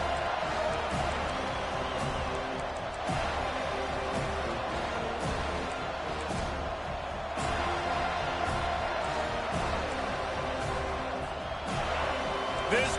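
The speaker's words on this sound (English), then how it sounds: "This crowd bringing an ear-splitting welcome to their visitors." Loud, dense crowd roar fills a football stadium during a Week 0 game against Oregon, a steady wall of cheering with occasional swells and sharp bangs, running throughout under commentary.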